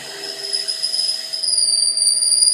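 A drill bit bores into wood on a woodturning lathe while making a bud vase, giving a steady, close, high-pitched whine and squeal whose pitch shifts partway through as the flutes clog with chips.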